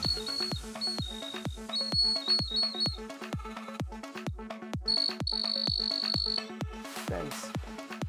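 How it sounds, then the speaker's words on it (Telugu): Buzzer of a homemade wireless AC current tester, sounding in a rapid regular train of pulses with sustained high electronic tones that start and stop, loud and close with no speech. "చూసారుగా ఫ్రెండ్స్ ఎలా అయితే వస్తుందో బజర్ సౌండ్ కూడా."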